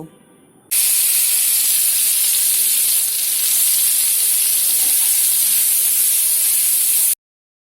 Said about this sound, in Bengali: আমি ঘিয়ের মধ্যে ভালোভাবে গাজরগুলোকে ভেজে নেব